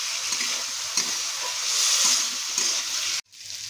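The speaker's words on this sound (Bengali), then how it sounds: "এভাবে আলুগুলোকে আমরা একসাথে মশলার সাথে কষবো" Boiled potatoes are fried and stirred with spices for a papaya kofta curry, making a close, steady sizzle with scraping stir strokes before it cuts off abruptly near the end.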